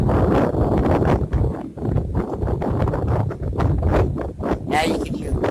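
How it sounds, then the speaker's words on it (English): Gusty wind from Tropical Storm Michael roars steadily against the microphone outdoors, rising and falling in loud buffeting waves, while a person speaks over it. "Now you can hear the wind."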